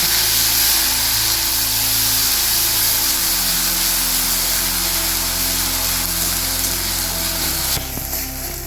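Onion ground with spices goes into hot oil for a katla fish korma, giving a loud, steady sizzle and hiss over a low droning hum that shifts pitch a few times, with no talking.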